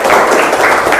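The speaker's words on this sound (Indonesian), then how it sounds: "tepuk tangan semuanya" Applause from a classroom of students, a dense, steady patter of many hands clapping close by and fairly loud for about a second.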